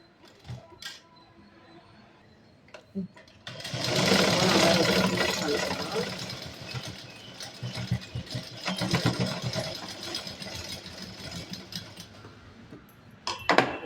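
A sewing machine stitches a skirt, starting after a few light clicks and handling sounds, then running in a fast rattling whir for several seconds, pausing and running again in shorter bursts, close up.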